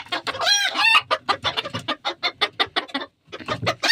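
Chickens on a perch, a rooster among the hens, cluck loudly and close in quick rhythmic bursts, with a squawking flurry near the start, one brief pause, then a fresh run of clucking.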